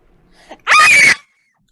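A short, loud, high-pitched scream from a woman bursts out after a faint breath, lasting about half a second, then silence.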